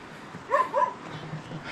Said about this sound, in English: The dog is curious.